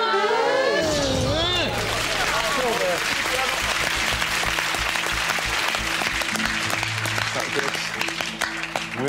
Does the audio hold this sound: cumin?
no